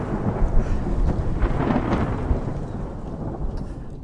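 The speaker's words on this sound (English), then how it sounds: "This is a crazy storm" A thunderstorm roars steadily with heavy rain, and deep thunder rumbles through a dense, continuous wash of sound. The storm is loud and close throughout, with no voices.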